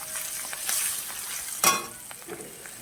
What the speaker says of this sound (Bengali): জিরে গুঁড়োটা তেলে দিতে হবে, কাঁচা গন্ধ ভাবটা থাকবে না।